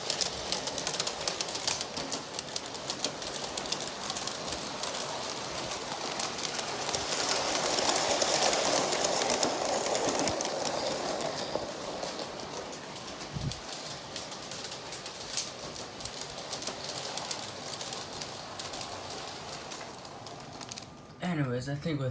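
A Bachmann Big Hauler model locomotive runs steadily with a continuous mechanical whir and clatter, swelling slightly midway, with a brief thump near the end.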